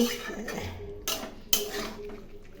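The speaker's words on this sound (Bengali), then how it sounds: "এখন মাংস দিয়ে আমি ভালো করে কষিয়ে নেব।" Mutton stirred with spices in a pot for a kosha curry: repeated scraping and clinking of a metal spoon against the pot, with two sharper knocks, close and moderately loud, no talking.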